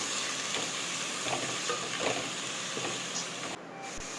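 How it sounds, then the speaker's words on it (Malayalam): Onions sauté in a pan for a Kerala-style beef pathiri, giving a continuous sizzle with soft scraping stirs at intervals, close and moderately loud, with no talking. "എല്ലാ സവാളയും ഒരുമിച്ച് ചേർത്ത് നന്നായിട്ട് ഇത് വഴറ്റിയെടുക്കണം"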